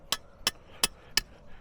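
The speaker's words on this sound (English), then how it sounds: "We just start hammering." Four sharp hammer strikes in an even rhythm, close and crisp, each a metallic impact driving a stake into the ground.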